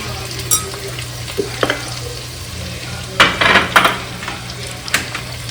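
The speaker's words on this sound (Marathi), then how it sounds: "तर आता हे मसाले आपल्याला मिक्स करून घ्यायचे" Spice masala for prawn biryani stirred and frying in a new pan in a garden kitchen, with a steady sizzle under scattered clinks of a spoon against the pan and a louder scraping burst midway.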